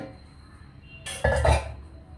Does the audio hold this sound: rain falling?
no